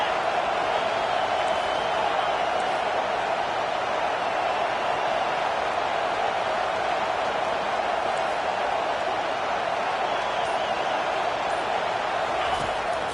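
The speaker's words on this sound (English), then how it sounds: "the crowd's giving them some juice" Football stadium crowd in Miami roaring in support of the defense during a goal-to-go stand, a steady dense wall of cheering that holds loud and unbroken throughout.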